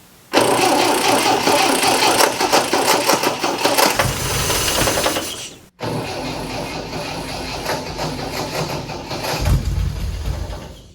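An old MGB car engine that had sat unused for ten years cranks hard and loud, catching roughly, with one brief cut near the middle before the cranking roar resumes for several more seconds.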